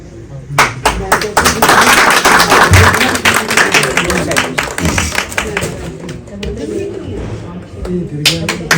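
An audience claps to welcome guests at a ceremony held by Bharatiya Atal Sena to honour Atal Bihari Vajpayee, with scattered hand claps rising and thinning while someone speaks over them.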